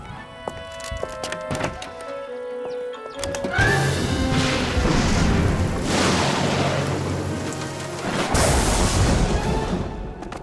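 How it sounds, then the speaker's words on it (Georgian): Thunder booms in the Turbozaurs animated cartoon, where a sudden loud rumbling crash breaks in after quieter tonal sounds, rolls on for several seconds, then a second sharp crack hits near the end. "ჭექა-ქუხილი მხოლოდ ხმაურია, მისი არ უნდა გეშინოდეს."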